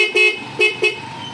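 Three short, sharp honks of a car horn sound in quick succession, close and fairly loud, followed by a lingering engine hum.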